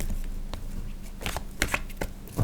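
Tarot cards are given a final shuffle, with soft, close, scattered riffling taps and flicks in an otherwise quiet room and no talking.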